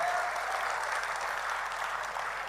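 Steady applause from the audience at a Hindi kavi sammelan poetry gathering in Nimbahera, a dense wash of many hands clapping at even strength throughout, with a brief whistle-like tone near the start.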